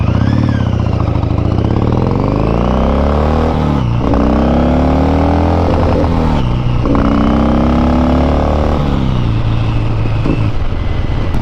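A motorcycle engine revs loud and close, rising and falling in repeated throttle blips over a steady idle.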